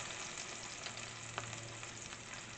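Very hot oil sizzling in a pan while a coconut curry is being cooked, a steady, even frying hiss with no talk.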